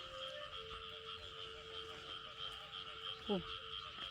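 Frogs croak along rice field dikes at night in rural southern Laos, a dense, steady chorus of trilling calls with a single louder, nearer croak standing out near the end.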